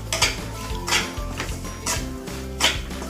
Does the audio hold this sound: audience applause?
no